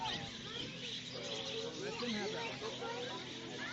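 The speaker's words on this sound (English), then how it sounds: "Look at all these birds." Birds chirp and call at a zoo feeding area, small tweets scattered over a busy background while people talk nearby.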